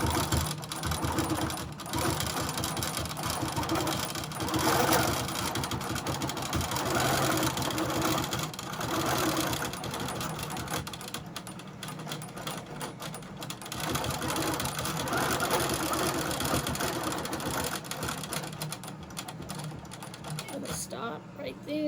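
A sewing machine quilting the final roll of a log cabin quilt runs in a fast, steady mechanical whir, close and loud, with brief pauses and a mechanical tone throughout.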